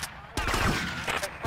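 Shotgun blasts in GTA Vice City come as a few sharp, booming shots in quick succession, loud and close, with some chatter faintly underneath.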